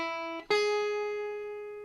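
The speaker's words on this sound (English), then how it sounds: "So a major third sounds like this" Two clean, sustained tones sound one after the other as a major third interval, the lower note briefly, then the higher one struck and left to ring and fade slowly, close and alone with no talking.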